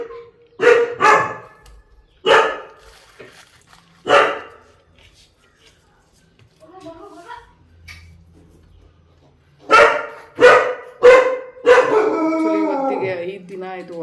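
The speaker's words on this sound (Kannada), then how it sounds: "ದೊಡ್ಡ ನಾಯಿ ಥರ ಬೊಗಳ್ತವನೆ" A large dog barks loudly nearby in two clusters of sharp, separate barks with quiet gaps between them, and a voice comes in near the end.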